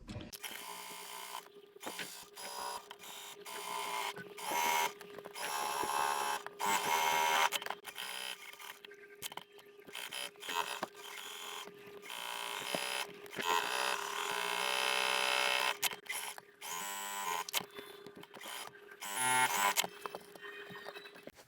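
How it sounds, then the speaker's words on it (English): A sewing machine with a walking foot stitches quilted stocking material at a quarter-inch seam, a steady mechanical whirr in several runs broken by short pauses, with no talk. "We're going to sew this at a 1/4 inch."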